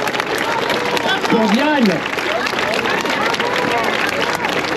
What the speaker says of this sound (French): Applaudissements aussi pour Stéphane